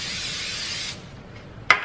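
A steady hiss of cooking oil spray onto a griddle for about a second, then quiet, followed by one more short burst near the end.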